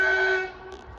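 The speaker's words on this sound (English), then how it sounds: "the first train to pass through will be this Class 231 going from Bargoed to" A Class 231 train running from Bargoed to Barry Island sounds a loud, steady horn blast while passing a foot crossing on a grey day, then the sound fades into rumbling.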